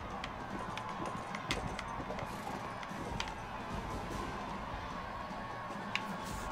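A horse's hooves clip-clopping in Mount & Blade: Warband, a quick uneven patter of light hoofbeats with a few sharper clacks, fairly quiet against a low background murmur.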